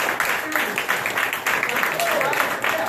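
A bar-professional audience applauds as a steady wash of clapping, with a voice talking over it the whole time.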